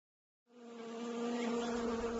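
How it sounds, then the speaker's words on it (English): Honeybees buzz in a steady, close drone that starts abruptly after a short silence and then swells and holds. "But dancing bees like this one can be halted by a headbutt from another bee."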